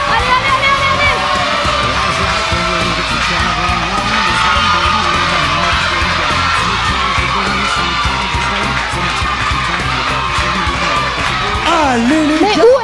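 A crowd of children cheers and yells nonstop to encourage players in a game, a loud, dense wall of shouting and whooping with an adult voice calling out over it.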